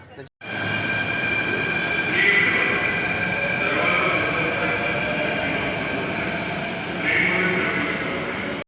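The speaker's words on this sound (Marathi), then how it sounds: "मेट्रोमध्ये आवाज खूप होता" Steady loud rumble and whine inside a moving Mumbai metro train heading to Saki Naka station, continuous hum with occasional swells of wheel and motor noise.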